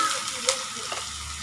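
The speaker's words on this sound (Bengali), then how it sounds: "পেঁয়াজগুলো আমার লালচে করে ভাজা হয়ে গেছে" Onions fried until reddish in oil in a pan give a steady, moderate sizzle with a brief clink near the middle.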